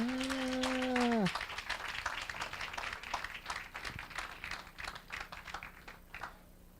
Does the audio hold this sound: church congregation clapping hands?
yes